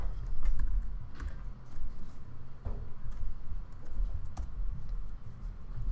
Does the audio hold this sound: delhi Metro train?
no